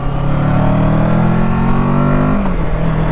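A Kawasaki Versys 650 motorcycle engine drones loud and close while being ridden, its steady tone climbing gradually and then dropping sharply near the end as the revs fall.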